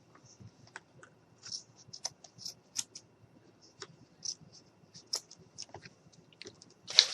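Scissors snipping through craft material for a snowman decoration, a run of crisp, close, dry cuts in an uneven rhythm with short gaps and one louder snip at the end, no voices.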